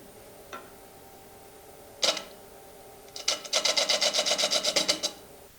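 Lathe spinning up to turn a rocket part: a few short isolated hits, then a rapid, regular mechanical pulsing for about two seconds, close and moderately loud, with no voices.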